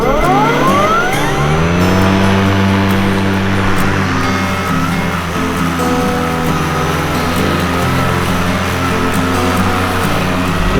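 An Ego Select Cut 21-inch battery lawn mower runs steadily nearby with a continuous electric whir and motor hum, its tone rising in the opening seconds and then holding even throughout.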